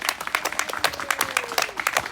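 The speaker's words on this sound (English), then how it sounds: "Big round of applause, guys." Applause and clapping from a small crowd celebrating a sale at a live property auction, irregular claps over about two seconds, moderately loud with some voices mixed in.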